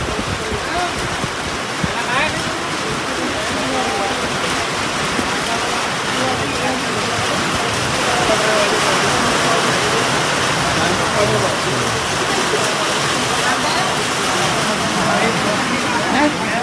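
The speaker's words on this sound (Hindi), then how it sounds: "आज मैच खेलने आए तो बारिश आ गई" Heavy rain pours down at a cricket ground during a match, a dense, loud, continuous hiss of water hitting surfaces that stays steady throughout with no clear voices over it.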